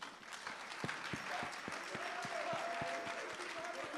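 A crowd claps steadily through the whole stretch at a book event, a dense, sustained roar of hands with sharp low thumps, while a faint voice sits underneath.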